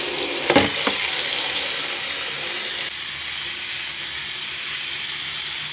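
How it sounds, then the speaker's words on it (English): Water runs steadily from a tap into a container for washing a hair weave, a loud continuous hissing rush with a brief splash near the start and a slight drop in level midway. "Put some water in there."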